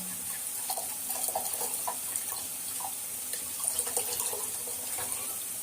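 Water splashes and trickles as it is poured into a mixer jar to dissolve tamarind, a steady close run of liquid with small bubbling surges and no talk.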